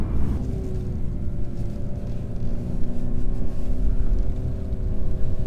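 2017 Mercedes E300 engine burbling while driving on a country B road, a steady low rumble with a light throaty crackle heard from inside the car, no talking.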